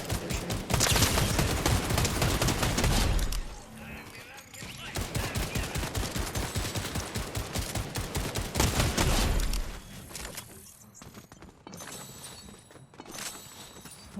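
Sustained rapid gunfire in a Fortnite Zero Build battle royale match, aimed at a ship, with dense bursts of shots. The shooting drops out briefly in the middle, then surges again before thinning into scattered shots near the end.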